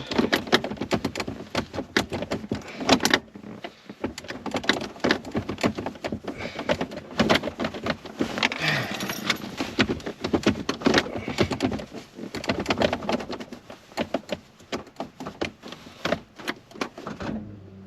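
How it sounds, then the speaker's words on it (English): A car key is turned and wiggled in the ignition of a cheap winter beater with a suspected neutral safety switch fault, producing dense, close rattling clicks and jiggling metallic scrapes that continue almost nonstop, with a brief pause early on. "So basically I'm turning the key and trying to wiggle."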